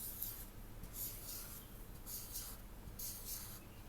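A pen scratches across paper while eggs are sketched, giving soft, steady scribbling with brighter stroke bursts roughly every second, close and quiet over a faint low hum.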